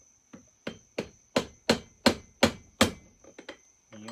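Sharp hammer taps driving a clutch-side crank seal into a Pioneer farmsaw chainsaw, about ten close, evenly spaced strikes, then a few lighter taps.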